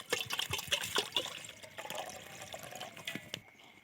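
Mineral water trickles and splashes as it is poured, a close, uneven liquid stream with small drips that thins out and stops near the end.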